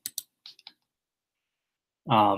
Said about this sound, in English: If you click on a user's name, and you get their name, you can change their credentials as an admin.